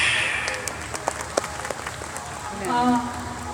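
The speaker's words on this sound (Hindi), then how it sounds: "मेरी बात अच्छी लगे तो ताली दिया जाए" A crowd applauds a political speech, with scattered clapping throughout and a voice talking over it near the end.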